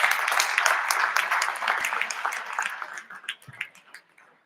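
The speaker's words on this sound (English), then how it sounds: "let's give him a round of applause for that" A dinner audience at a bar association event breaks into a round of applause, a dense crackling wash of clapping that thins into a few scattered claps and dies away.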